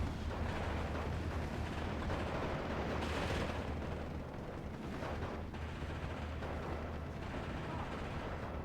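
Gunfire in the WWII strategy game Steel Division 2 forms a steady, rumbling battle din of overlapping shots and distant blasts, lasting throughout with no distinct single reports standing out.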